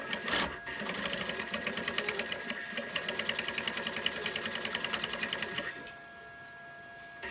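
A sewing machine stitching a quilted backpack strap runs in a steady, fast rhythmic chatter for about five seconds, then stops, leaving quiet room tone.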